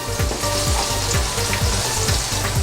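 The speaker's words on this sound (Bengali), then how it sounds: "একটা পাত্রে আন্দাজ মতো তেল দিয়ে গরম করে নিয়েছি এবার একটা পেঁয়াজ কুচি দিয়ে দিচ্ছি" Chopped onion frying in hot oil in a pan for a prawn and coconut curry, a steady loud sizzle with rhythmic scraping stirs about every half second, no talk.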